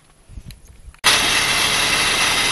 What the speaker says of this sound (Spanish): el carro ya arrancó